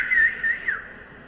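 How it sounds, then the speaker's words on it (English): Fans at a junior boys volleyball championship blowing whistles, a shrill sustained whistle with three quick pulses, loud and close, then fading away. "They got whistles."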